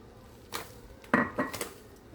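Chiroti semolina roasting in a pan on low heat for jaggery rava laddoo, a few short close scrapes and clinks of a spatula against the metal pan, separated by quiet pauses.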